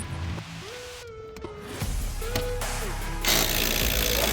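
A power tool spins off the upper strut mount nuts on a 2015 Chevrolet Silverado during a leveling kit install, giving a steady mechanical whir with tonal whines that rises into a louder, sustained burst near the end.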